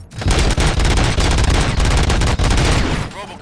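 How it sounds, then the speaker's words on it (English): Rapid, sustained bursts of automatic gunfire in the video game RoboCop: Rogue City crackle loudly and continuously, with dense overlapping shots filling nearly the whole stretch. "Gunshots? What's going on?"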